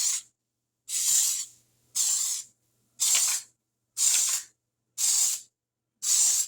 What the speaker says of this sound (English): I'm going to go ahead and get these pans ready, and I'm using Baker's Joy to spray them with